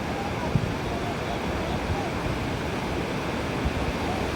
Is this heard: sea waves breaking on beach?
yes